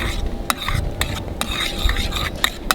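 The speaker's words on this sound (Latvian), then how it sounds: "Un liekam ķiploku klāt pie sviesta. Tātad mazliet pamaisam." Garlic stirred into melted butter in a pan on a grill, with soft frying sizzle underneath and sharp utensil clinks against the pan roughly every half second, close and steady.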